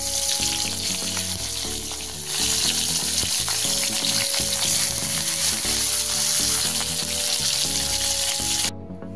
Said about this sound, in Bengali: ইলিশ মাছের মাথাতে ভালোভাবে নুন হলুদ মাখিয়ে নিয়ে সেটা ভালোভাবে ভেজে নেব